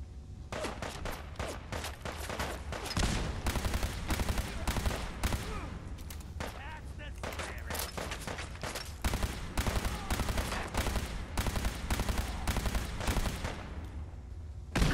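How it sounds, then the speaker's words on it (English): Dense video-game combat in Fallout 4: rapid bursts of gunfire and heavy grenade blasts crowd together in a loud, relentless barrage lasting the whole stretch, with no pause between shots. "Damn, those grenades are strong."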